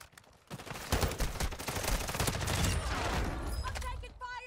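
Rapid gunfire in a shooter video game: dense, overlapping bursts and volleys, loud and continuous for several seconds, with a brief quieter lead-in and a few sharp tones near the end.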